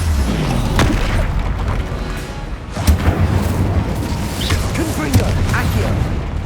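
Incendio fire spell cast in Hogwarts Legacy, heavy booming bursts with two sharp blasts standing out among rumbling spell impacts, all under a voice calling out incantations.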